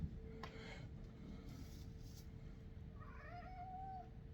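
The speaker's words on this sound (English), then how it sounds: "I'm being meowed at." A cat meows indoors, giving a faint, drawn-out rising call late in the clip over a steady low background hum, with soft knocks earlier.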